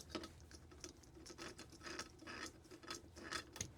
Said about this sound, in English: So you want to put the screw in and back it up until you hear a little click.